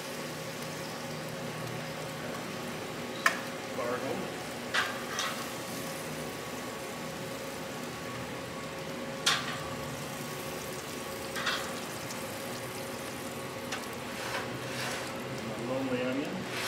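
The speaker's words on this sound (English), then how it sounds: "That's multi-level grilling on the wildfire." Food sizzles on a Wild Fire 4-in-1 cooker during multi-level grilling, including onion and asparagus: a soft, constant frying hiss with occasional sharp pops and clicks, fairly quiet in the background throughout.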